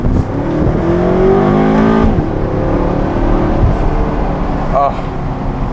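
A 1/100-scale RC car with an M6 motor revs at high RPM, a loud, sustained whine with rising and falling pitch sweeps, close by, while voices talk over it.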